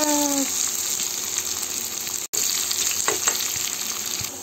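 Steady loud sizzling of garlic frying in hot oil in a kadai, close and continuous, with a brief dropout partway through and faint stirring clinks.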